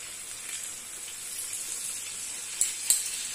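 Vegetables for a bsbas (fennel) tajine frying in a pan, a soft, steady hissing sizzle with a couple of sharper pops near the end.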